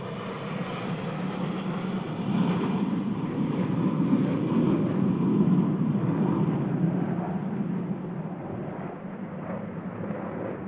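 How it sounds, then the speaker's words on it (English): Blue Angels jets pass overhead in diamond formation at a practice show, a broad continuous roar that swells in the middle and slowly fades, heard alone without talk. "the boss is going to bring the diamond formation right around, right over top of us"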